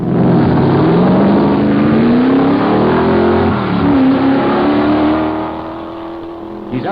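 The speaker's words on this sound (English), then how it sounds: "It's a racing car, not a car really built for this course" A 600-horsepower racing car climbs the Knox Mountain Hill Climb course in Kelowna, BC, in 1972. Its engine roars loud and steady, pitch rising through the gears, then eases slightly as it pulls away.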